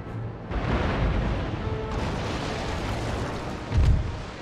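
Heavy ship cannon fire in Empire: Total War during a naval battle, a continuous rumbling roar of booming shots with a stronger deep blast near the end, with no speech over it.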